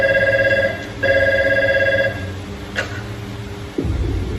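A telephone rings loudly and close by in two bursts of electronic ringing tone, then falls silent, with no talk over it.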